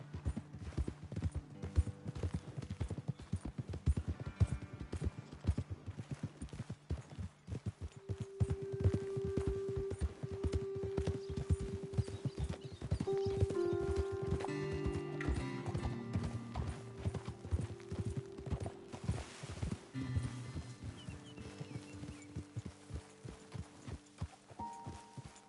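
Horse hooves clip-clop steadily as riders travel in Red Dead Redemption 2, a continuous rhythmic trot lasting the whole stretch, with soft game music and ambience underneath.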